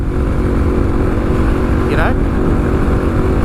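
A Suzuki DRZ motorcycle engine droning steadily and loudly on a ride, with a continuous low rumble and a brief rising whine partway through.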